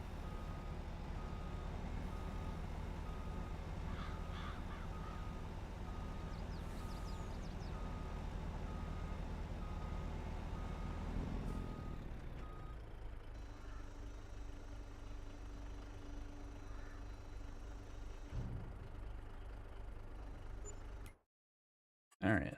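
A truck in Farming Simulator 22 reverses with a steady idling engine and repeating backup beeps for about half the stretch, then the engine carries on alone before a brief cut to silence near the end.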